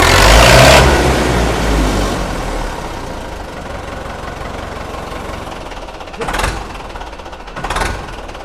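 A tractor engine catches with a loud burst, then settles into a steady, close idle before two short revs push the engine note up.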